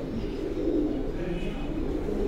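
Pigeons of Core Commander and Teddy breeds kept by a fancier coo in a steady, low, continuous murmur throughout, close and moderately loud with no other clear sounds.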